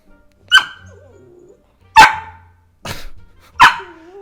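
A dog barks four times in sharp, separate yaps about a second apart. It is close and loud, with faint whines between the barks.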